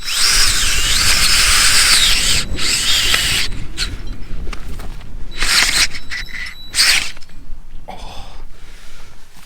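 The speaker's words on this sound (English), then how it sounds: "So we have these stakes that you basically drill in." A power drill whirs in loud bursts, driving tent stakes into rocky ground with grinding and scraping, pausing briefly between runs.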